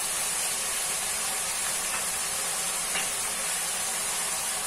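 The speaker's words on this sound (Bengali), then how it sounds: "এবার আমি সমস্ত মশলা একসঙ্গে মিশিয়ে নিয়ে কষবো" A paste of tomato, garlic and ginger sautés in a hot pan with a steady, dense hiss of sizzling. The sound is close and even throughout, with only faint scraping, and no one speaks.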